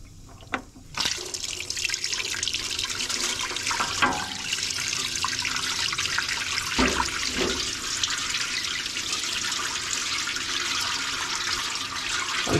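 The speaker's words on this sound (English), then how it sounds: "Draining down into the pan nicely." Fluid from an old Autocar semi truck that has sat for many years drains steadily into a drain pan, a continuous liquid pour with a few faint knocks and clicks, no talking.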